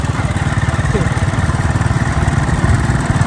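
A motorcycle engine runs on a village trip with a rough, pulsing mid-pitched drone that stays steady and fairly loud throughout, with no clear revving.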